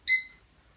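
A kitchen-style timer gives a single short electronic beep as it is set to three minutes, clear and close, then falls quiet.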